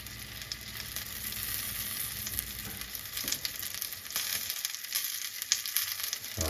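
Steady, crackling sizzle of a tortilla frying in a hot pan, continuous and close, with occasional louder pops and scraping toward the end.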